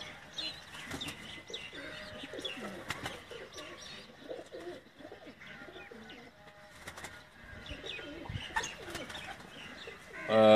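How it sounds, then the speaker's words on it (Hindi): Pearl-marked pigeons at a loft in Kot Ishaq, Hafizabad, cooing and murmuring in soft overlapping calls, with scattered chirps and faint rustling around them. "दीवान साहब वाले जो मोतियों वाले कबूतर थे, ये वो कबूतर आपको दिखाए जा रहे हैं"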